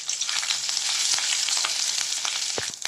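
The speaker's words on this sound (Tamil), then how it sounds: "பூண்டு கலர் மாறினோடனே துருவின இஞ்சியை சேர்த்துக்கோங்க. இதே நல்லா வதக்கிக்கோங்க." Garlic and grated ginger sauté in hot oil in a pan for a roadside-style mushroom soup, giving a loud continuous sizzle broken by occasional stirring scrapes and clicks.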